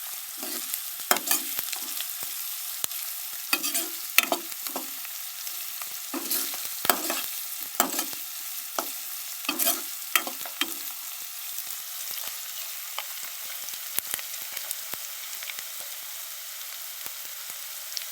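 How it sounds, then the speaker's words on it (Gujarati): Onions being lightly sautéed in a pan for an egg and prawn dish, a soft steady sizzle broken by repeated scraping and stirring strokes at an even rhythm, close and moderately loud, with no talking. "ડુંગળીને આપણે થોડી હલકી માપની ગરમ કરી લઈશું."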